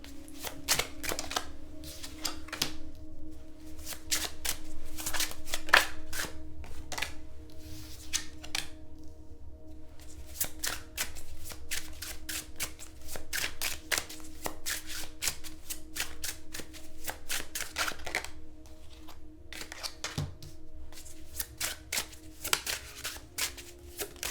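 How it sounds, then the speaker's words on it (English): Tarot cards are laid out and handled at close range, with rapid sharp flicks, slaps and shuffling riffles in dense bursts over a faint steady hum, with no talking. "Let's get all the cards out and then we'll go through them."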